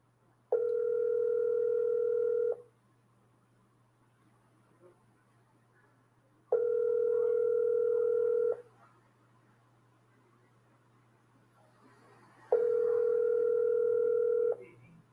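An outgoing telephone call ringing back on the line, three evenly spaced two-second ring tones separated by four seconds of near silence, clean and moderately loud with faint hum beneath.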